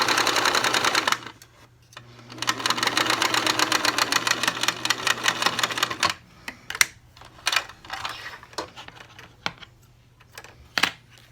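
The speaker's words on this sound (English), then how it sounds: "you're going to do a straight stitch, not a zigzag" A sewing machine runs a quarter-inch straight stitch along the edge of a pleated fabric face mask. A short burst of rapid, rattling stitching is followed by a longer, steady run, then several brief stop-start bursts, all close and clear.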